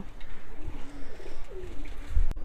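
Pet pigeons at home cooing softly, a few low throaty coos close by over faint background noise.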